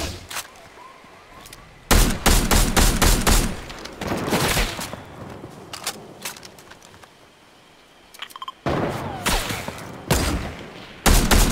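Sniper gunfire in the video game Fortnite comes as sharp, loud shot reports in quick clusters, with quieter gaps between the bursts.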